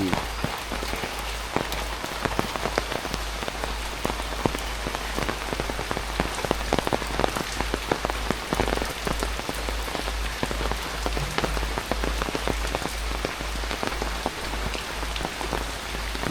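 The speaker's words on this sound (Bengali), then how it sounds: "বৃষ্টি দেখে বাইর হইতে পারো না" Heavy rain pours down in a village, a loud, close, continuous patter of drops striking surfaces that holds steady from start to finish.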